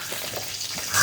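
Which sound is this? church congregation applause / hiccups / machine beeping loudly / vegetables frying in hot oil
vegetables frying in hot oil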